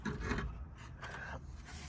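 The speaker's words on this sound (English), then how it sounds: "so sanding on the center console frame" Hand sanding on the center console frame of a 2000 Jeep Cherokee XJ, close rasping strokes rubbing back and forth in a few uneven passes with no talk.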